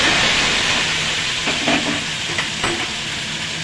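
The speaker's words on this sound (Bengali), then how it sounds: "তেলটা গরম হয়ে গেছে, চাউমিনগুলো দিয়ে দেবো।" Chow mein noodles hit hot oil in a wok with a dense, steady hiss of frying, and a few soft stirring scrapes and clicks come in over the sizzle with no talking.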